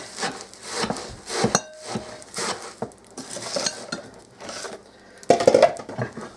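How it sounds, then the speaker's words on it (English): Sticky Rice Krispie treat mixture stirred in a pot off the heat, giving a run of scraping, clattering utensil-on-pot sounds with brief clinks, close and moderately loud, no talking. "we're just going to mix this all up just like so and make a big old mess"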